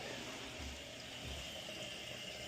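Water rushes steadily into an apartment toilet tank during a repair, a constant hissing fill that stays even and moderately loud with no voices.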